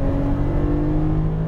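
Porsche 911 Turbo accelerating at full power on a track, a loud steady engine drone held close and constant throughout.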